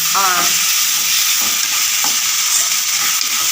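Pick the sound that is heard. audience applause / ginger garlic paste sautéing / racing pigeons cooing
ginger garlic paste sautéing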